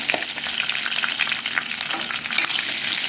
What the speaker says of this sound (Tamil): எண்ணெயில் சேர்த்து நல்லா பொரிய வச்சுட்டு மீடியம் ஃப்ளேமில் வச்சுக்கோங்க